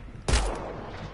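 A single sharp gunshot from a weapon in the sci-fi video game Mass Effect Andromeda cracks loudly and close, then trails off into a lingering rumbling decay with no voices.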